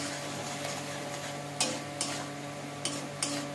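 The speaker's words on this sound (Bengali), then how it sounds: "ভেজে রাখা আলুটা আমি এখন দেবো এর মধ্যে" Fried potatoes are stirred into spice masala frying in a pan, giving a steady low sizzle with a few sharp scraping clicks from the spoon as the pieces are turned.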